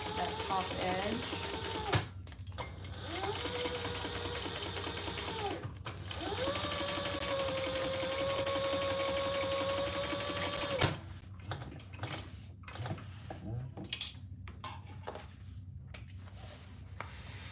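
Sewing machine top stitching along the upper edge of a cork bag, running steadily in several bursts with short pauses between them, then stopping as a voice talks over light handling noise.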